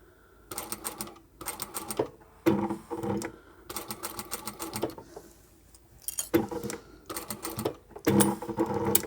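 A sewing machine stitches a fabric sleep mask along stabilizer, running in several short, close mechanical bursts of rapid whirring stitches separated by brief pauses, slowing around a curve.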